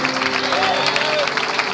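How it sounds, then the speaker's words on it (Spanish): A church congregation applauds, a short, continuous wash of many hands clapping in a reverberant hall, steady and fairly loud, with voices underneath. "Dele palmas al Señor"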